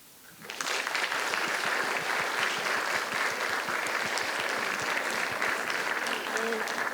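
A large audience at a poetry slam in Australia applauds steadily, dense clapping starting after a brief quiet moment and continuing at full strength throughout.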